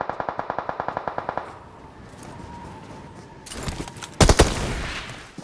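Rapid automatic gunfire from the PUBG video game crackles in a fast burst of about a dozen shots, then fades into background noise before a loud closer blast or impact near the end.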